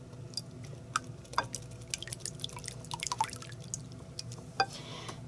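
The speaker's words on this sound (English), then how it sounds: "whisk these up" Wire whisk tapping and clinking against a bowl while mixing ingredients for keto pumpkin bread, a quick irregular run of light metallic ticks and drips over a steady low kitchen hum, close and fairly quiet.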